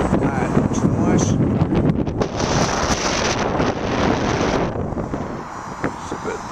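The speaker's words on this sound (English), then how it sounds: "It's a bit blowy." Strong wind gusts across Wisley Airfield and buffets the microphone in loud, continuous roaring blasts that rise and fall.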